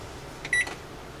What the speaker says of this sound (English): we're going to set our timer for about 55 minutes